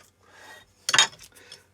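A metal file rasps across the edges of a Stanley No78 rebate plane, a few short scraping strokes with one louder, sharper stroke in the middle, close and fairly quiet.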